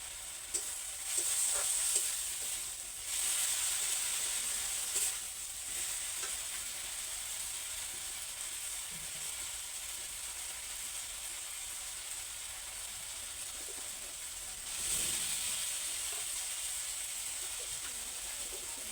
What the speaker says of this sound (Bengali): এখন পেঁয়াজ, আদা, তারপরে মশলা টশলা দিয়ে একটু কষাচ্ছি